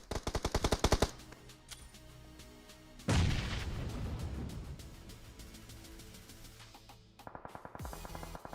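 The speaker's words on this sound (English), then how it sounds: "Kindness coming over here throwing some nades at them" In a PUBG Mobile tournament match, rapid bursts of gunfire open the scene, then a sudden loud blast like a grenade explosion booms and slowly fades before more quick shots return.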